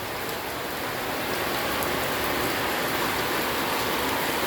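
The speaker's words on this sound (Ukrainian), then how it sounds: "такий дощ, така блискавка" Heavy rain pours down steadily in a thunderstorm, a dense, loud, continuous hiss of drops striking surfaces with no pauses and no voices.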